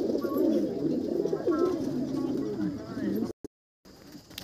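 Racing pigeons at a club tournament, close low cooing and bird calls over rustling, with voices talking nearby, before a brief dropout near the end.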